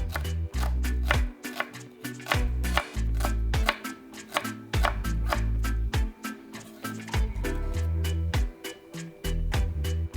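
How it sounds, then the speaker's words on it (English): A knife mincing red chili peppers on a cutting board gives a long series of crisp, rapid taps in uneven bursts, close and clear with no talk. "Mince the chilies finely and set them aside."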